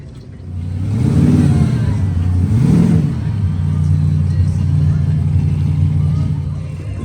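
An old school off-road race vehicle idling and revving as it pulls up at an off-road race in Mexico, a loud, close engine rumble with rising and falling revs and voices talking.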